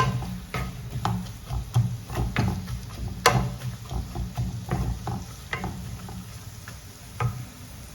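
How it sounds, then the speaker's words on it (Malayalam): Finely chopped large onions sautéing in a pan for homemade butter chicken, a low crackling sizzle punctuated by regular sharp taps and scrapes of a spoon against the pan, close and without talk. "അപ്പോൾ അതിങ്ങനെ ചെറുതായി മുറിച്ചിട്ടൊന്ന് അതിലൊന്ന് വഴണ്ട് വരട്ടെ കേട്ടോ"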